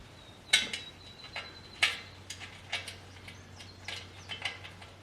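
Bolts going in while a Sunnydaze mobile garden cart is assembled: a faint series of irregular metallic ticks and clicks, a couple of them sharper and louder, against a quiet room hum.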